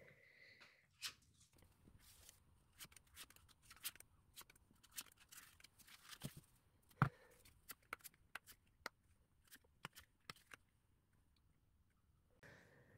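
Tarot cards being drawn and shuffled on a table, a quiet run of soft papery flicks, slaps and scrapes in an irregular rhythm, close and with no talking.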